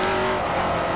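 A Mercedes-Benz 190E engine revving hard while racing in Forza Motorsport 4, a loud sustained high-rpm drone with faint tire noise, alone without talk.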